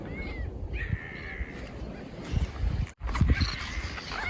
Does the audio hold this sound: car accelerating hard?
no